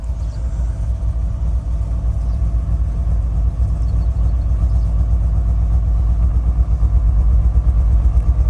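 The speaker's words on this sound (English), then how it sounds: "The exhaust note is a little" A 2011 GMC Yukon Denali Hybrid engine with an exhaust leak idles with a steady low rumble and a slightly uneven, lumpy pulse, close by and continuous with no talking.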